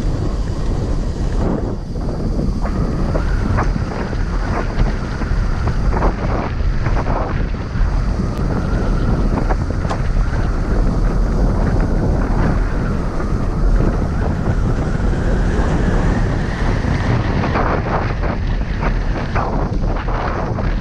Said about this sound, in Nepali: वाह झरना